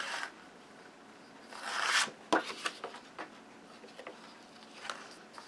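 Cardstock being scored at 5 1/2 inches for a tulip step card, heard as a scraping drag around the second mark followed by a sharp tap and several light ticks and rubs, close and quiet with no talk.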